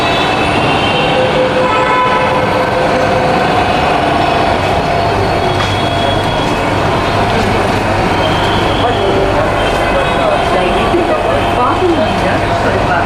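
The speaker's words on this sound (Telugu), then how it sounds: "మెట్రో అయితే వచ్చేసింది, ట్రైన్ చూడండి." A Bengaluru metro train pulls into an underground station with a loud rumbling rush and rolling wheel noise, a brief horn-like tone, and a steady roar that fills the platform.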